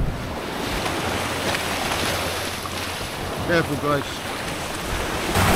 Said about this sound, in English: One of them big waves comes in now.